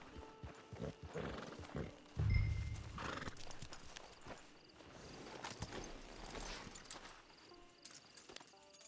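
A horse in the Red Dead Redemption 2 video game whinnies and snorts while its hooves clip-clop on the ground, a steady close trot with a louder neigh early on, set against game ambience.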